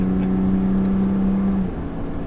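A 2019 Ford F-150 Raptor pickup truck cruises at about 55 on a road, giving a steady engine drone and road hum with a sustained low tone that fades slightly near the end.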